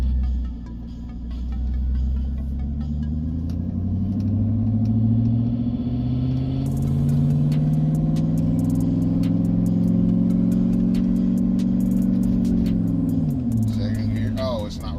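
A car engine pulls in first gear through a 4L60E automatic transmission with a steady rising drone that climbs in pitch and then drops near the end, with someone talking briefly.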